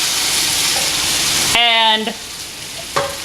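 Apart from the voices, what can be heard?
sauce sizzling in a hot pan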